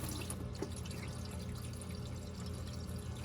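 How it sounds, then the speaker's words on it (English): Water pours into a car's radiator hose and leaks out below, giving a steady, close, continuous splashing trickle with no talk. "Let me show you what happens when we pour water in."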